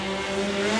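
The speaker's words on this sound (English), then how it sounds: "You can hear a little bit of that rev limiter" Rally car engine held at high revs, a steady loud strained whine bouncing against the rev limiter for a brief moment.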